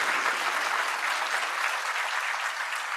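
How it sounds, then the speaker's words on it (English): An audience at an AI congress and awards event in Pune gives steady, dense applause, a continuous close wash of clapping with no talk over it. "Please, guys, let's welcome him once again with a round of applause."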